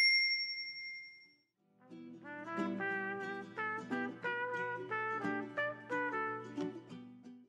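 A bright notification bell chime opens with a couple of clear high dings, then a melodic jingle of repeated bell-like tones runs steadily underneath, loud and close, with no voice present.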